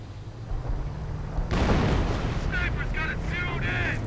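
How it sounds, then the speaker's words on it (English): Artillery in a Company of Heroes battle: a heavy blast opens into a sustained rumbling roar, with chirping game sounds layered over the rumble near the end. "Of course, more artillery going in towards here."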